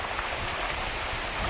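Dense, unbroken downpour of heavy rain in a windy storm, a loud wash of water hitting surfaces close by, with no talking.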